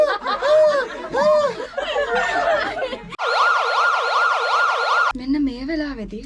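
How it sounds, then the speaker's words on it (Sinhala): An ambulance siren wails in a steady rising and falling pattern for about two seconds, loud and close, set between stretches of laughter and chatter from a group of people. "ඇම්බියුලන්ස් එකක් වගේ."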